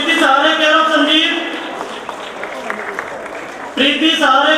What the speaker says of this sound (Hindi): भाई तालियां बजाते रहिए हर पार्टिसिपेंट्स के लिए